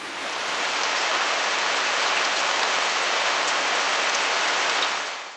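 Heavy, incessant rain pours down during floods in Sichuan, China, as a dense, even hiss of water on surfaces. It holds steady and loud for several seconds with no voices.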